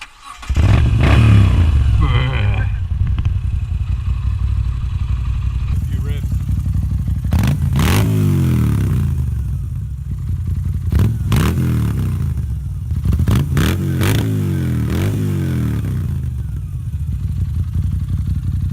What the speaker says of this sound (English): As you can hear, its Ascostini exhaust, which is an added accessory, sounds bloody amazing.